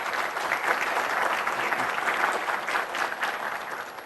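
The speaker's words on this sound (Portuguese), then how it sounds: "Aplausos para ele." Audience applause fills a hall at a 2013 Cinfotec technical conference talk, a dense, steady wash of many clapping hands sustained throughout with no talking over it.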